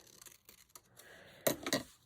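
Ordinary, not very sharp scissors trimming the edge of a paper border for a scrapbook, a few quick snipping cuts close by, the loudest pair near the end.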